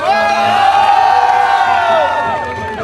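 A crowd at a sports festival prize distribution cheers, whoops and shouts continuously and loudly for about three seconds, many voices blending into a sustained roar with a few higher yells on top.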